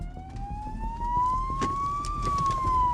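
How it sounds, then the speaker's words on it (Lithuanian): An emergency vehicle siren wails nearby, a single rising-and-falling tone that sweeps up then slowly down, loud over the rumble of road traffic. "Kai įjungtas garso signalas ir švyturėliai, vairuotojai ir pėstieji turi žinoti."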